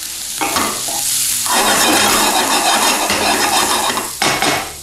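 Seasoned vegetables sizzle loudly in a pan while a utensil stirs and scrapes through them, a close continuous frying hiss broken by a few sharp scraping strokes.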